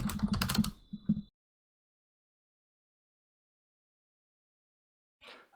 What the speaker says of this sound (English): Sorry for the very loud typing